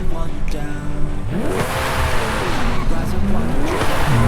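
A Koenigsegg Jesko supercar engine in the video game Forza Horizon 5 revs hard, pitch sweeping up and down through gear changes, loud and continuous with a faint voice underneath.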